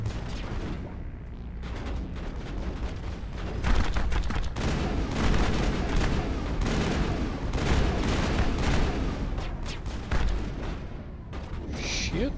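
Dense gunfire and booming shots from the Mass Effect 1 video game, a continuous loud barrage of bursts and impacts with a voice speaking over parts of the battle.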